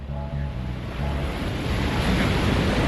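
Steady roar of surf washing onto Ngandong Beach in Pacitan, Indonesia, loud and continuous, with wind buffeting the microphone.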